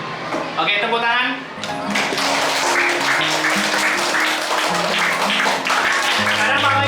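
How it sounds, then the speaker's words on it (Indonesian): Applause in an Indonesian teacher-training classroom session, a busy spread of hand claps mixed with a sustained tonal sound and voices chattering underneath throughout. "Oke, tepuk tangan."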